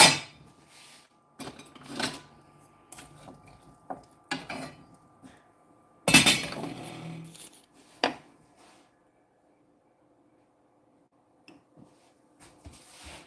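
Peas, carrots and onions stirred with a spoon in a cooking pot, producing scattered close scrapes and knocks, one loud burst midway, then fading to near quiet with a few faint taps.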